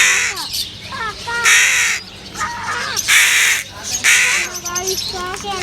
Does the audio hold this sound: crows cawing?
yes